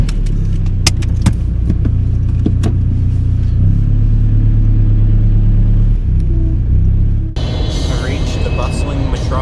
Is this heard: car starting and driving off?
yes